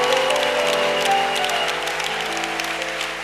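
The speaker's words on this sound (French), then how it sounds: "Acclamez pour lui." A church congregation in Bunia, Ituri, clapping for a preacher at a Friday evening service, a dense, steady applause that fills the room and tapers slightly toward the end.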